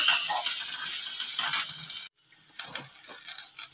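Onion, garlic, black pepper and cardamom frying in oil in a pan for a chicken stew, a steady close broadband sizzle that cuts out briefly, then resumes a little quieter with soft stirring.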